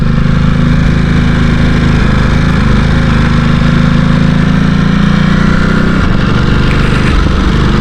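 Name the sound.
motorcycle exhaust on the overrun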